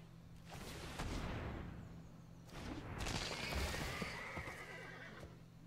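A synthesized horse neighs and whinnies as a Nazgul card is played in the Magic: The Gathering Arena card game, two loud drawn-out calls over hoof-like clopping and rumbling game effects, no talking.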